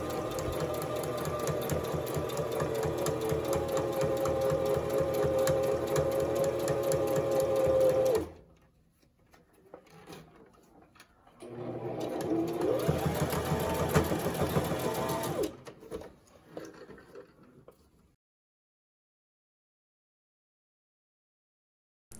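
A domestic sewing machine with its presser foot fitted stitches fabric in a loud, steady whir for about eight seconds, pauses, then runs again for a few seconds before stopping into silence.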